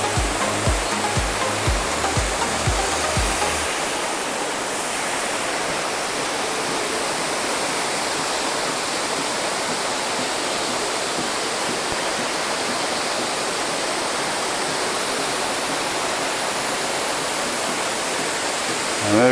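Wodu-free forest setting aside, a waterfall at Manyueyuan National Forest roars up close from its base, a loud, steady broadband rush that fills the whole stretch, with a few low thumps at the start.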